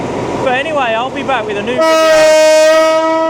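Passenger train running between Bangkok and Hua Hin, a steady rumbling ride with a long, loud horn blast sounding close by in the second half while someone talks over it.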